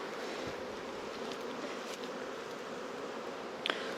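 Honeybees buzzing around a beehive opened after smoking, a faint, steady drone of insects near the frames with a brief rustle near the end.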